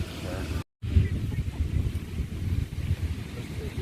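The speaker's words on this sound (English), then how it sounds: "Fighting with the wind." Wind buffets a microphone on a Florida beach, a dense low rumble that gusts continuously. There is one sudden brief dropout near the start, and the roar carries on unbroken afterward.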